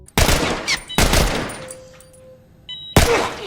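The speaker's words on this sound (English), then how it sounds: "in my gameplay, I mercilessly killed all the doctors with an assault rifle." Loud, close assault rifle bursts in The Last of Us: a burst, a second burst about a second later, a quieter lull with a faint steady tone, then another sharp burst.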